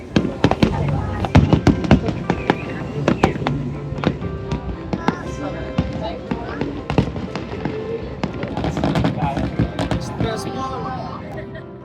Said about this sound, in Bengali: এইবার শুরু হবে ফায়ার ওয়ার্কস রাত 9টার সময়